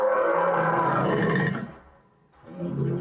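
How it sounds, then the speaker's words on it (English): A sea lion's plaintive, roaring bellow, reused as the voice of an Ankylosaurus, sounds loud and close for about a second and a half, breaks off, then swells again in a second lower, throaty call. "that main sort of plaintive bellow is our sea lion"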